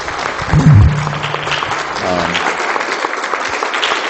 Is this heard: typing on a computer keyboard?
no